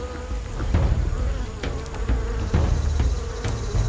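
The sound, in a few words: Asian giant hornets buzzing at underground nest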